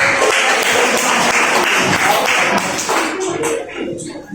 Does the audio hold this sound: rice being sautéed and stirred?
no